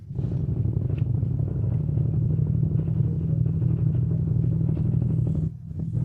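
A CFMOTO Ibex 800 motorcycle engine rumbles steadily and close for several seconds, a deep even drone that drops away briefly near the end.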